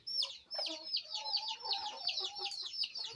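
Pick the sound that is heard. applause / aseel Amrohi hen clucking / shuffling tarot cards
aseel Amrohi hen clucking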